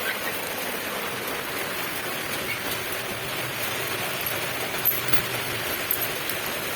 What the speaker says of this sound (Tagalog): ang lakas ng patak ng ulan ah